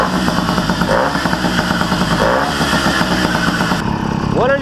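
A Tomos A35 moped with a cast-iron cylinder converted from A3 to a 35 reed-valve setup, untuned, runs with a loud steady buzzing two-stroke drone, rising in pitch near the end as it revs.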